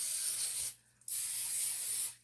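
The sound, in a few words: quick spray onto a foil-lined pan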